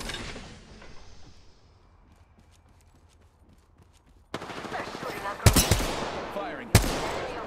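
Gunfire in a video game: after a quiet stretch of faint footsteps, a rapid burst of loud automatic shots erupts, with sharp cracks punctuating the rattle.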